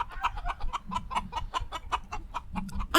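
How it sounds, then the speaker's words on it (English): A chicken clucks in quick, steady, close pulses for the whole stretch, with no voices over it. "that's the weirdest chicken I've ever heard"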